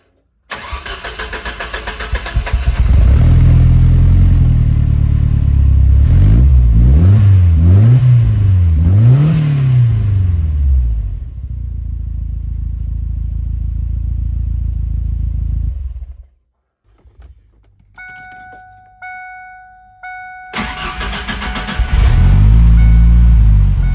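A 2.3L turbo Lima engine fitted with a single 3-inch MagnaFlow exhaust and turn-down tip starts up and revs hard in repeated rising and falling blips, then settles, cuts out briefly and roars back, loud and close.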